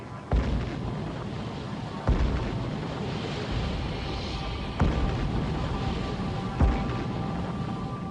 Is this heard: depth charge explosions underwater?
yes